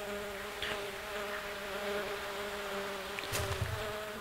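A fly's buzz from the video game The Plan hums steadily and close, a constant droning whine with a few small clicks and a low thump near the end, nobody speaking.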